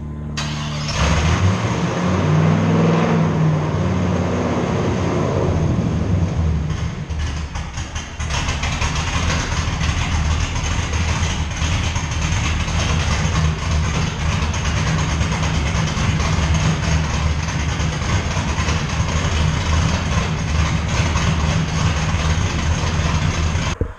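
A truck engine on a dyno roars loudly, climbing in pitch over several seconds, then holds a sustained, harsh high-rpm drone for a long stretch.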